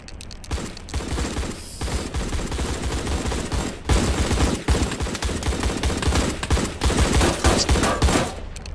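Rapid bursts of gunfire in a roleplay video game crackle close and loud, nearly continuous volleys with brief gaps, and no voices over them.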